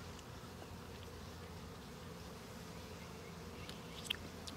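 Bees hover around fresh honeycomb outdoors in a park setting, a faint steady buzzing over low background noise, with a few brief closer buzzes near the end.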